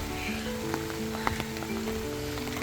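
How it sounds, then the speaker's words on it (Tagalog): Rain patters steadily with a continuous rushing wash of strong wind on a farm in the forest, and faint tonal sounds drift through in the distance. "Umuulan siya at napakahangin."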